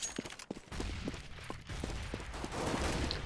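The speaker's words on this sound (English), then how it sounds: "The CTs come out of their holes, and suddenly a hail of bullets just hose them down" Bursts of automatic gunfire from a Counter-Strike esports match, Russian team HR against ACES, come as a rapid string of sharp reports rattling through the whole clip with dense, continuous crackle behind them.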